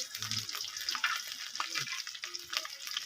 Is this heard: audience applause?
no